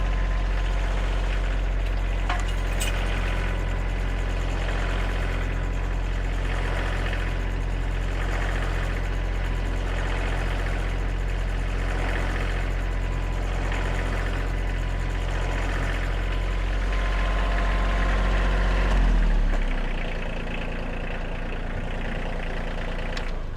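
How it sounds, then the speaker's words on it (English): A tractor engine runs steadily for about twenty seconds at a sawmill log site, a loud, close, low idle with a faint rhythmic pulse, then the note drops away as it winds down near the end; no one speaks. "Let me fire up the tractor and see what happens here."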